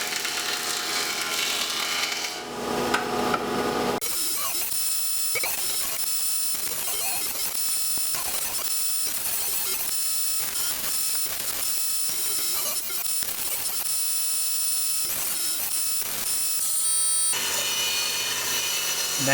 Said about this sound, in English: I take them to my jointer and clean up some of the edges before planing and cutting